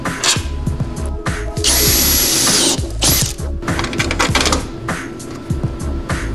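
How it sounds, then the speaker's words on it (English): A power drill with a unibit step bit bores through a van's passenger door panel, giving a loud close whine with a piercing high-pitched screech in the middle, over clattering tool and mechanical noise. "Now we're gonna rest the tip of the unibit into our dimple. I'm gonna give her a zap."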